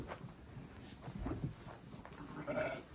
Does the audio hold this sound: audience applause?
no